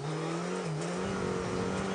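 Jan Kopecky's Skoda rally car on a Rallye Monte Carlo 2011 special stage holds a steady, loud engine note, which dips briefly under braking before climbing again as it accelerates.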